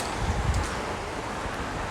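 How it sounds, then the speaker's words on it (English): Strong wind buffets an outdoor microphone, producing a steady, loud, low-pitched roar and rumble with no other clear sounds. "oh my god, so windy"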